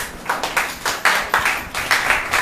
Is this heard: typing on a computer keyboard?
no